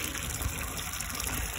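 Water gushes steadily into a 20-litre bucket being filled for washing, a constant near splashing rush with no voices.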